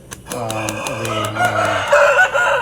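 A Bhimavaram breed rooster crows loudly and close, a long harmonic call followed by clucking, with a person talking faintly in the background.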